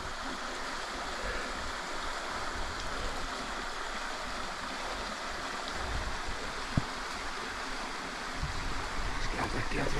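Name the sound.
river rapids flowing water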